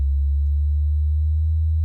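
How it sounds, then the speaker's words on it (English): A modular synth sine-wave oscillator hums as a loud, pure, low tone that stays nearly steady throughout, with only a slight shift as its frequency is adjusted. "See that sine wave? It's getting faster and faster and faster."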